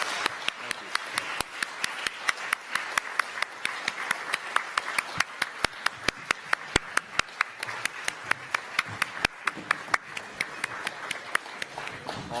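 A conference audience applauds a Polish resistance fighter and decorated war hero, a steady, dense round of clapping that runs the full length with sharp individual claps standing out over a continuous patter.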